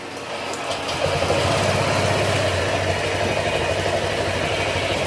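A Honda Click 125 scooter fitted with a freshly rebuilt 150cc engine and remapped ECU starts up and settles into a steady idle, a continuous low engine drone with a faint quiet lead-in.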